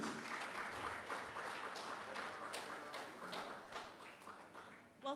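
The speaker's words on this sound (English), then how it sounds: "One more time, a round of applause for her" Applause at a marketing excellence awards ceremony, a steady wash of crowd clapping that carries throughout with some faint voices mixed in.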